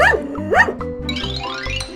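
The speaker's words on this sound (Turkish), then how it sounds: "Köpek" A dog gives two quick, high yipping barks, followed by a whiny bark over bouncy background music.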